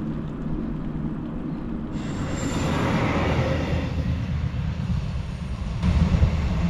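A train rumbles past a level crossing nearby with a steady low roar that swells slightly and then holds, with no voices.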